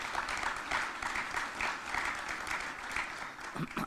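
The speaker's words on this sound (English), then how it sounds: "give a warm round of applause to Senator Schumer for his leadership here" Audience applause at a Li-Cycle announcement event in Rochester, a steady wash of clapping from a room of people that holds at an even level for about four seconds.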